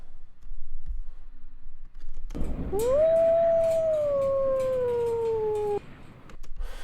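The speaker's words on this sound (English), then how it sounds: "I thought it was wolf howling" A wolf howl sound effect rises and holds as one long, sliding tone over a low background rumble, tapering off after about three seconds, with no talking.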